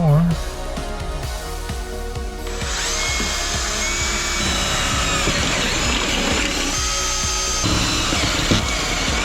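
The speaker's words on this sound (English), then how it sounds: "Drill one more." A power drill bores a hole in a car's firewall for a clutch pedal master cylinder during an automatic-to-manual swap, a loud steady whine settling in after a brief start, with a voice speaking over it.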